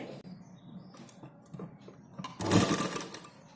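A sewing machine stitches along a folded strip of blouse fabric, its needle running in short, quiet bursts that grow into a louder, continuous whir near the end.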